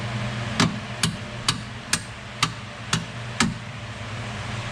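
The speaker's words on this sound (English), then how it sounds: "let's hammer it for a second." A hammer strikes a bolt on the rear suspension arm of a Nissan 300ZX seven times, sharp metallic blows in a steady rhythm about half a second apart, close and clear over a low background hum.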